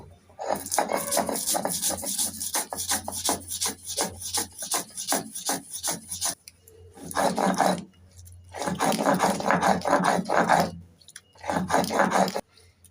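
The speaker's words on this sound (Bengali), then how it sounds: "সর্ষে আর কাঁচা লঙ্কা বাটা হয়ে গেছে" Mustard seeds and green chillies with a little salt and water are ground into paste on a stone, a loud rhythmic rasping scrape in long back-and-forth bursts separated by short pauses.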